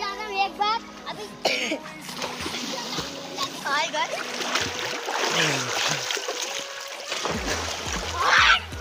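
Splashing in water with excited children's voices and chatter around it, bursts of splatter rising near the end.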